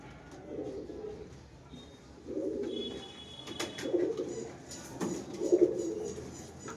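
Pigeons in a loft coo in soft, low bursts, three or four rounded phrases spaced a couple of seconds apart, close by and fairly quiet, with faint chirps in the background.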